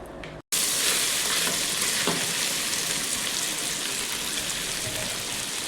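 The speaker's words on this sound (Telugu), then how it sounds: "ఇప్పుడు దొండకాయలు ఆల్రెడీ నూనెలో మగ్గుతున్నాయండి" Ivy gourd pieces fry in hot oil in a pan, giving a loud, steady sizzling hiss that starts after a brief cut of silence and holds evenly to the end.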